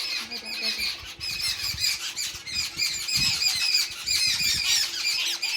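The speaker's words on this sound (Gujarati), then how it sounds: "આ નાની ચકલીઓ લાગે છે" A flock of small sparrows chirps and squawks busily nearby at a temple tank, dense overlapping high-pitched calls with some low rustling and background murmur.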